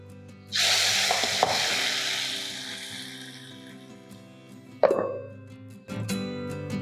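Dal tempering hits hot oil with a sudden loud sizzle that slowly fades. A second burst of sizzling follows a few seconds later, then a third, all close and without talk.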